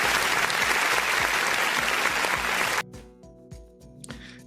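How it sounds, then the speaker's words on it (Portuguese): A loud, dense round of applause from a crowd, sustained for nearly three seconds before cutting off abruptly into near quiet. "Uma salva de palmas."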